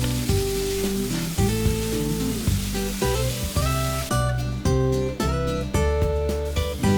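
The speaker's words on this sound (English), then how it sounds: "add 1 tomato chopped and fry this until the tomatoes are soft" Chopped onion, green chilies and tomato frying in a pan for a Goan dried prawn kismur, with a steady close sizzle under background music and no talking.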